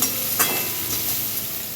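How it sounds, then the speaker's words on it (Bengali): Tomatoes and onions fry in a pan with a loud, dense, continuous sizzle and a brief stirring swish, heard close up with no voices. "এখানে টমেটো পেঁয়াজ সব ভাজা ভাজা হয়ে গেছে"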